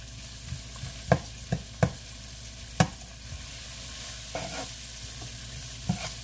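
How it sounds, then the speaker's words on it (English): Onions cooking in a pan on the stove with smoked paprika and seasonings, giving a soft steady sizzle broken by several sharp spoon-scrape and stirring knocks, close by, with no talk. "we're just going to let these onions not cook all the way"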